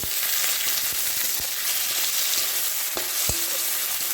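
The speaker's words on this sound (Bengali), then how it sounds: "ওখানে রসুন ভাজা হচ্ছে তো এর মাঝে আমি দিয়ে দিচ্ছি এই যে টমেটো কুচি" Chopped tomatoes go into garlic already frying in a pan for a pointed gourd dish, raising a steady, close hiss of sizzling oil broken by a few sharp clicks and knocks of the utensil.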